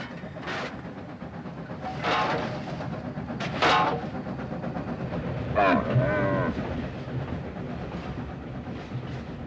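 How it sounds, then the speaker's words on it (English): A train rolls along the rails through desert toward the Tian Shan Mountains, a steady loud rumble with rhythmic clatter and a few squealing, creaking bursts from the cars. "The train passes through the desert on the way to the Tian Shan Mountains"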